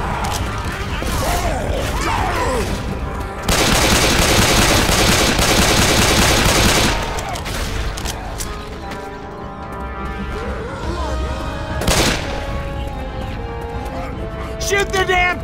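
Gunfire in the video game Left 4 Dead 2, loud and near: rapid automatic bursts with a dense, sustained stretch of firing in the middle, single sharp shots scattered around it, and voices shouting over the shooting.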